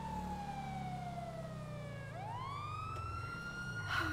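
A police car siren in the GTA 5 roleplay game wails in long, falling and rising sweeps, steady and moderately loud over a low engine rumble, with no talking.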